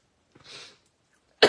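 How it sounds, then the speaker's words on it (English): A person coughs indoors during a stamping and card-making session: a softer, breathy cough first, then a sharp, loud cough burst about a second later, close to the mic with no talking. "The cough starts."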